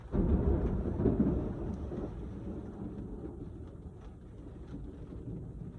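Thunder during a thunderstorm, a deep low rumble that swells early then rolls on steadily with a continuous wash of rain-like noise, moderately loud and distant, with no talking.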